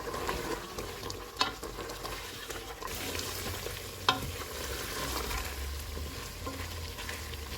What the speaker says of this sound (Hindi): मटन को मैंने अच्छी तरह भून लिया है।